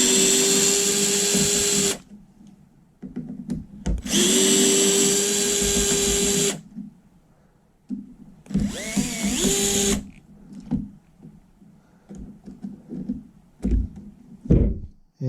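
Power drill backing screws out of an AK rifle part, three loud whirring bursts of about two seconds each separated by short pauses, followed by clicks and handling knocks.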